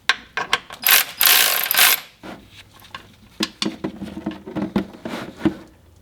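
A ratchet loosens the 14mm drain bolt on the inspection plate of an NV4500 transmission in a Cummins-swapped Land Cruiser, with a long loud burst of ratcheting followed by a series of short, separate clicks close up.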